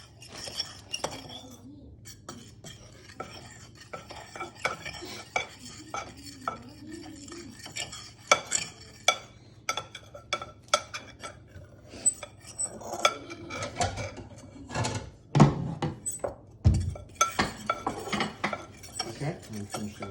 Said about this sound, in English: Now we're going to mix these up very, very well now.